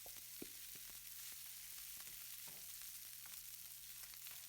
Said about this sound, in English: Add the rice to the pan and mix with the garlic and oil.